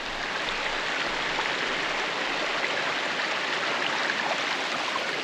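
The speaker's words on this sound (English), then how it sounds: "The path has just turned into a mini waterfall now." Water running down a steep mountain path in the Glyders of Wales, turned into a small waterfall, gives a constant close hiss and trickle without pauses or voices.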